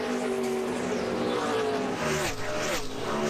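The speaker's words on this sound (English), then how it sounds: "He drives it off in on the outside of Mark Martin there." NASCAR stock cars race at the 2009 Pennsylvania 500, with a loud, continuous engine roar whose pitch sweeps and shifts as cars accelerate and pass, dense and unbroken throughout.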